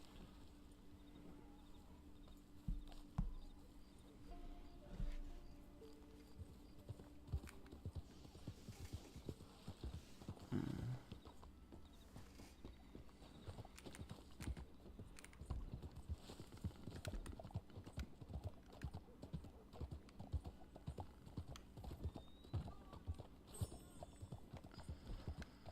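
Horse hooves clip-clopping in the Red Dead Online video game, a steady faint trotting rhythm over soft ambient game sound, with occasional low murmurs.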